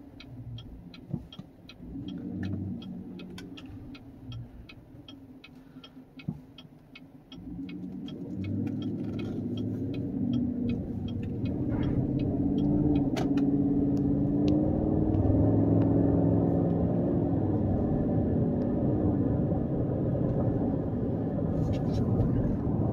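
A 2019 GMC Sierra Denali with a Corsa exhaust cruises along, heard from the cabin. A quiet, regular ticking opens the stretch, then a low, steady rumble builds midway and holds.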